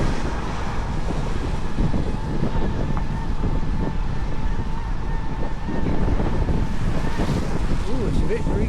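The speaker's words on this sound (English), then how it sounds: "it's a bit breezy" Strong wind on a hillside walk buffets the microphone in a loud, steady roar that never lets up, and it carries on with no clear speech over it.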